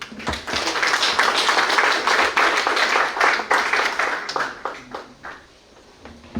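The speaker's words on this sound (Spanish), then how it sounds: "Los recibimos con palmas." Audience applause at a book presentation, steady clapping from a crowd for about five seconds before thinning out to a few scattered claps.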